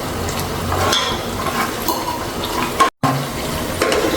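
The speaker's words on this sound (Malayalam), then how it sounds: "അപ്പോൾ നമ്മൾ അണ്ടിപ്പരിപ്പ് ഇതൊരു ബ്രൗൺ കളറായിട്ട് വരുന്നവരെ ഇളക്കി കൊടുക്കും" Cashews fry in hot oil in a pan for chicken biryani, giving a steady sizzle under light stirring scrapes, with one brief dropout.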